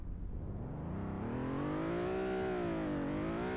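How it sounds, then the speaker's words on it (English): Pickup truck engine revving from idle, the pitch climbing smoothly to a peak and easing back down in one sustained, steady rev heard close up. "Now, if we rev it"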